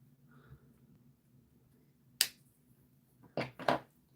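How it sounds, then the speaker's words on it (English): Several sharp finger snaps ring out close and dry in a quiet room, a single snap followed about a second later by two quick snaps in a row. "Just the old finger, like, finger snap?"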